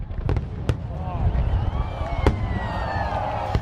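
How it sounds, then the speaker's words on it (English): Fireworks burst during a Diwali celebration, several sharp cracks spaced irregularly over a steady rumble and crowd-like murmur, with whistling rising trails between the bangs. "people are lighting up the sky with fireworks"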